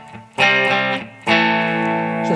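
Electric guitar chords played through a Caline CP-12 Pure Sky overdrive pedal, two thick distorted strums ringing out with gritty sustain, loud and close.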